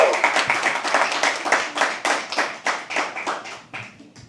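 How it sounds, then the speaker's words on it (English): Audience at a live poetry open mic claps in a burst of individual hand claps, fairly close, tapering off toward the end. "Can we please have another round of applause for"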